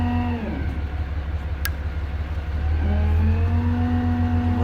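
Cummins diesel in a 2008 Dodge Ram 5500 crane service truck, a steady low idle that dips and then rises to a faster idle, close and continuous.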